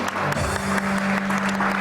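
A studio audience at a televised show claps steadily, a dense continuous wash of applause close by, with a low steady hum running underneath.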